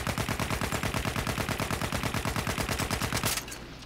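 Rapid automatic gunfire from a Battlefield-style shooter video game, a loud, steady stream of closely spaced shots lasting over three seconds before stopping abruptly, leaving a faint low tail.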